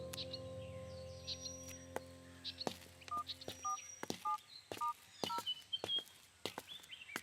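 A telephone number is dialed: a quiet series of short, evenly spaced keypad beeps, with faint bird chirps and small background sounds around them.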